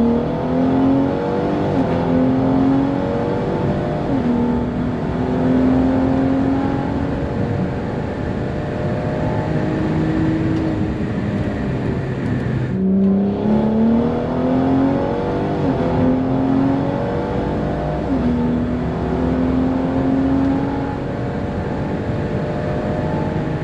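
A BMW 340i running E85 pulls hard, its engine note climbing steadily through the gears with a brief dip at a shift partway through, loud and close from inside the car for over twenty seconds.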